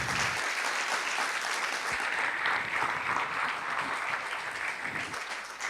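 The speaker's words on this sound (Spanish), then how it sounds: "Dele un fuerte aplauso al Señor." A congregation in a Spanish-speaking church breaks into strong, continuous applause, a thick, even roar of many hands clapping together that holds steady for several seconds.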